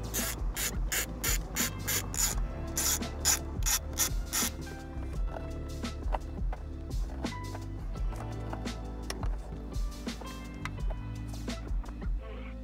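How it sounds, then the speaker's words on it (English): A 10 mm socket ratchet loosening intake coupler clamps on a Toyota Tundra, with rapid bursts of ratcheting clicks up close, followed by sparser metallic clicks and handling noise. "You can either use a Phillips or a 10 mil socket on these."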